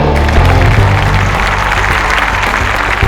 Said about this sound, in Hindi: तो गड़गड़ाती हुई तालियों में सबसे पहले बुलाते हैं